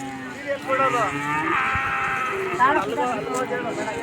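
Crossbred calves at a KMF calf show call out with several drawn-out, wavering moos and bleats, loud and close, over a murmur of people talking nearby.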